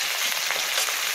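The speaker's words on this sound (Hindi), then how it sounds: "अब इसके बाद मैं इसमें मटर डाल दूँगी।" Green peas frying in a pan with green chillies for pea pulao, a brief, close, continuous sizzle with no talking.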